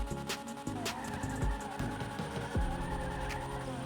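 Car engine in GTA Online revving and shifting gears during a double-clutch launch: a loud, continuous whine that rises and drops in pitch with several abrupt shifts, and tire squeal along the way.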